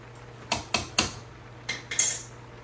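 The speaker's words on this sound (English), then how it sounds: "I'm gonna stir once in a while because I don't want anything to burn to the bottom." A spoon stirs zucchini in a metal cooking pot, making a series of distinct clanks, three close together and then a few more, loud and near against a faint low hum.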